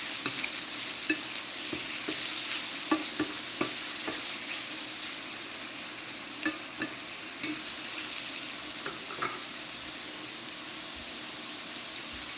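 A quesadilla fries in an oiled pan, giving a soft, steady sizzle with scattered pops and occasional stirring clicks, fairly quiet and with no talking.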